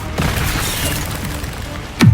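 A burst of Incendio fire spell in Hogwarts Legacy, with a muffled boom and crackle at the start, steady magical rumble through the middle, and a second sharp whooshing burst near the end, fairly loud and without speech.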